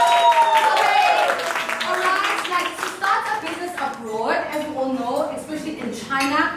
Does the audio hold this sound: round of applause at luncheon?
yes